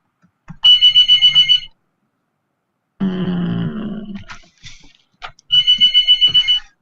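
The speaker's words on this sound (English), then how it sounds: "There's a phone call." A telephone rings with an incoming call, two bursts of a rapid, bright electronic trill separated by a pause, loud and close, with a short rustle between the rings.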